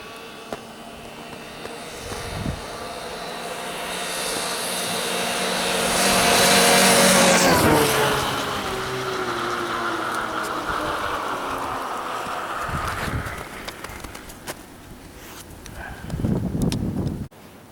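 An Arctic Cat Bearcat 7000 snowmobile makes a radar speed run, its engine roar building loudly toward a peak as it passes close, then holding a steady high whine as it pulls away.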